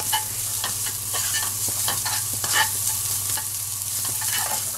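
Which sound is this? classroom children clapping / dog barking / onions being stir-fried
onions being stir-fried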